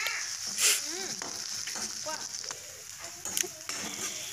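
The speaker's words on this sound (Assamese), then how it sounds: "এতিয়া পিয়াজটো অকমান ব্ৰাউন হোৱালৈকে ভাজিব লাগিব আৰু ইয়াত দিলো আদা নহৰু পেষ্ট" Onions fry with ginger garlic paste in a pan, giving a soft continuous sizzle with occasional stirring clatter, while chickens cluck and chirp faintly in the background.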